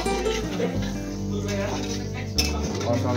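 Fried potatoes tipped into a pan of spiced alu dum, with metal utensils clinking and scraping against the cookware, close and fairly busy, mixed with steady background sound.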